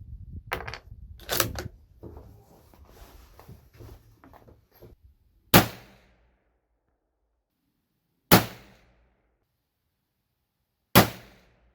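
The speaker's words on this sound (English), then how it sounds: "So it took 7 shots to take out 3 clays at 100 yards." Mauser rifle fired at clay targets 100 yards away: three loud, sharp shots spaced about three seconds apart, each ringing out into silence, following a stretch of quieter clatter and handling noise.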